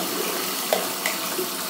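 Hot water runs steadily from a tap into a sink, a constant broadband hiss with a few small splashes and clinks, close and moderately loud, with no voices.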